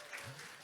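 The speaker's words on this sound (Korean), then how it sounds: "우리 박수와 환호로 우리 환영하겠습니다." Brief, faint burst of audience clapping and cheering at a Sunday youth worship service in a church, a dense wash of applause with a voice audible over it.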